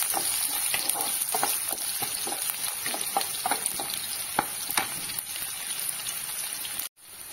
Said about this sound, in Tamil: நான் 10 சின்ன வெங்காயத்தை சின்ன சின்னதாக கட் பண்ணி வச்சிருக்கேன், அதை சேர்த்துக்கோங்க. நல்லா வறுத்துக்கோங்க.